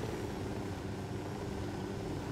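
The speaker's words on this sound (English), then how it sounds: "Let's drop off the helicopter right here" Steady, droning rotor and engine noise of a helicopter in flight in the video game Ghost Recon, heard from inside at constant loudness with no talk.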